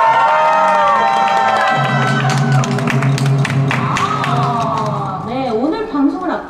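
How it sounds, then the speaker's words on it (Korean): A studio audience on a Korean idol radio broadcast lets out cheering and clapping, loud and continuous, with voices mixed in and music underneath, tapering toward the end. "박수!"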